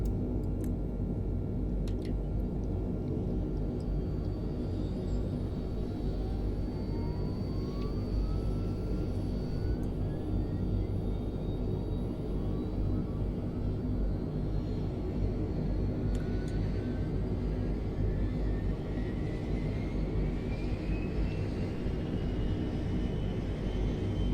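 A de Havilland Canada Dash 7 turboprop of Air Greenland with its engine running, a loud continuous droning roar with steady low rumble and rising whining tones as the engine stabilizes, heard up close and unbroken.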